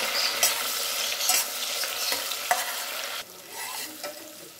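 Chopped tomatoes and green chillies frying in a pan for a chicken gongura biryani, a steady loud sizzle with a few sharp stirring scrapes, easing quieter near the end.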